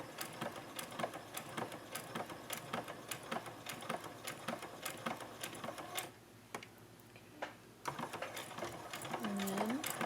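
A sewing machine back stitches and forward stitches over elastic on a fabric mask, its rapid needle clatter running in bursts with brief pauses and restarts, close and moderately loud, with no one speaking.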